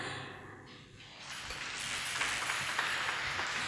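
A church congregation at a joint youth worship service breaks into loud applause, a soft swell rising after a second into a dense, sustained wash of clapping that carries to the end.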